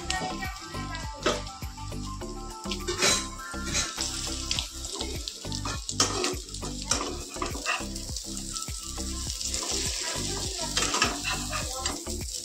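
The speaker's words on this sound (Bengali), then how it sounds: "তেল না দিলে ডিম ফোলে না, বড় হয় না।" An egg fries in oil in a home kitchen, with a steady sizzle under frequent clinks and scrapes of a utensil against the pan, and faint talk in the background.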